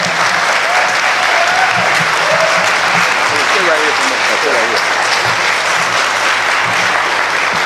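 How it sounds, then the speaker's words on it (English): An audience at a Selma presidential candidates forum applauds Barber with a loud, continuous round of clapping while someone talks over it from close by. "Let's give Barber a round of applause."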